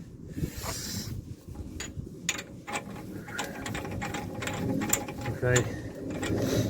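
Ratcheting mechanical clicks from tightening the nut on a new wheel hub and bearing assembly of a 2004 Saab 9-3, close and fairly busy, with a brief spoken word.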